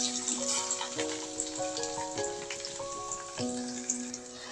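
Bitter gourd frying in a little oil in a pan gives a steady, soft sizzle at moderate distance, with tonal background notes running under it and no talk.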